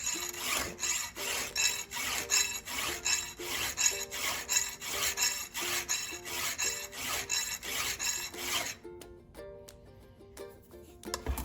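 Hand file sharpening a chainsaw chain, a series of rhythmic rasping strokes, each a short scratchy scrape repeated steadily, then lighter taps and clinks near the end.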